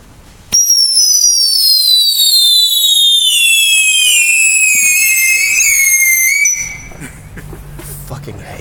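A firework whistles loudly nearby, a sustained descending whistle with rich overtones lasting about six seconds before cutting off, followed by quieter low rumbling and faint voices.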